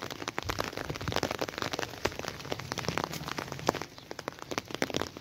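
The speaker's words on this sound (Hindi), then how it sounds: "बारिश इतनी हो रही है" Steady rain pours down in a village in Pakistan, a dense, continuous patter of drops striking surfaces, close and fairly loud throughout with no voices.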